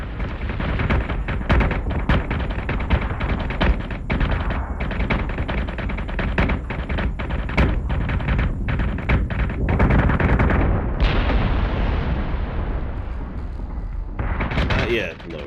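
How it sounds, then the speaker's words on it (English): Torpedo salvo and heavy explosions in the Battlestar Galactica Deadlock space combat video game, dense continuous rapid bursts and booming blasts for many seconds, then a sudden cutoff into a softer rumble. "We're about to fire our first torpedo salvo."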